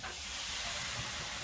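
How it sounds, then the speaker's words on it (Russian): Water poured onto hot sauna stones flashes into steam with a steady, loud, unbroken hiss, without any voices. "Начинаем лить. Ну, видите, пар. Вода кипит на камнях"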